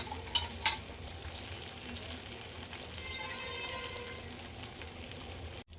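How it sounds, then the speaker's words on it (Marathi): Surmai fish shallow-frying in a pan until crisp gives a quiet, steady sizzle, with a couple of sharp clicks near the start. "आता पुन्हा एकदा आपण 5 मिनिटं हिला परतण्यासाठी थोडी कडकडीत होण्यासाठी आपण ठेवून देऊ"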